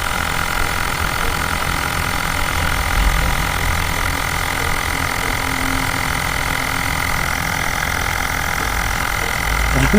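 A Xiaomi Mijia Mi Portable Electric Air Pump 1S inflating a tyre gives off a loud, steady motorized drone with a rattling buzz that holds unbroken and close throughout, with no voices.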